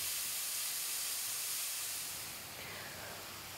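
Red meat dry-frying on a hob in a pan with no oil, cooking in its own juices, gives a steady, loud broadband hiss and sizzle that holds throughout and eases slightly toward the end.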